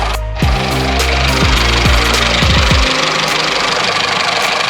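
The engine of a Classic Mini Clubman Estate starting on a mechanical fuel pump, with a rough, lumpy idle and uneven revs that settle into a steady running drone. The engine is close and loud throughout.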